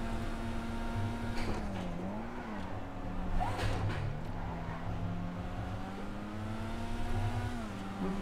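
Issi Sport sports car engine in GTA 5, a continuous buzzing drone with pitch swinging up and down as the car revs and eases off, loud and close throughout.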